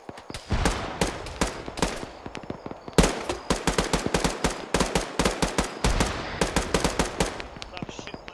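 Rapid gunfire in bursts during a tactical shooting exercise, sharp close cracks in quick volleys over several seconds, with brief voices between the shots.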